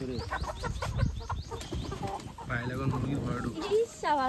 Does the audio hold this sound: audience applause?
no